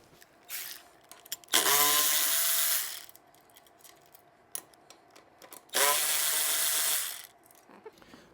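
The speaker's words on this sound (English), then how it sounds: "So we're just going to put a socket on here and twist these ones off" Two bursts of a power tool spinning a socket to remove nuts, each about a second and a half long, spinning up and winding down with small clicks and clatter in between.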